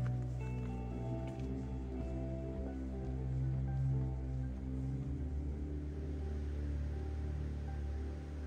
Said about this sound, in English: Well, it's raining.